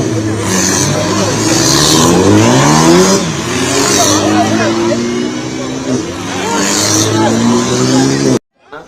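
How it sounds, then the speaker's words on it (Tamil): Race cars roar past one after another during a car race, engines revving loudly with rising and falling pitch, crowd babble underneath, and the sound cuts off abruptly near the end. "இந்த கார் பந்தயத்தில் ஒவ்வொரு காரும் போகின்ற பொழுது ஏற்படுத்துகின்ற சத்தம்"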